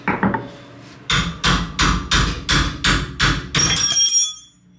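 Seven evenly spaced, sharp hammer blows on metal ring out close by, each followed by a brief clanging decay, ending with a metallic shimmer, during restoration of a Sno Bird trailer.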